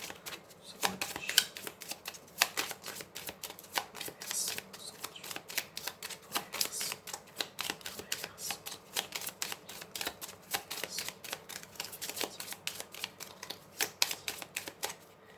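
Tarot cards are shuffled and drawn in a long, busy run of quick papery flicks and taps, close and moderately loud, with no talking.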